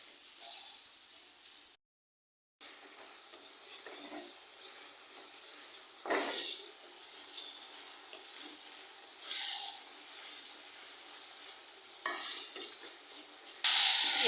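Ginger paste, turmeric and chili powder are stirred and sautéed in a pan as prawns and sweet gourd curry gets going, with soft sizzling and scraping strokes, louder utensil clinks now and then, and a brief dropout partway.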